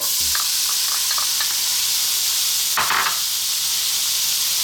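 Onion, garlic and dried oregano frying over lively heat in a hot pan, a loud, dense, continuous sizzle close up with a few light clicks and one brief scrape of a utensil midway, no voices.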